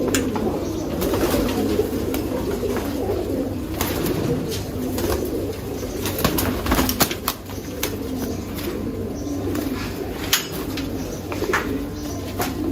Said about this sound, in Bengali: এটা একটা কালো গলা কবুতর